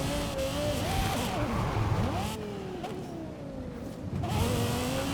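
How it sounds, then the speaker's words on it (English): A Toyota 4Runner with an LFA engine swap in Forza Horizon 5 revs hard and climbs through the gears, its high-pitched engine note rising, dropping at each shift and rising again, loud and close throughout. "Toyota 4Runner with the LFA engine. It sounds unbelievable."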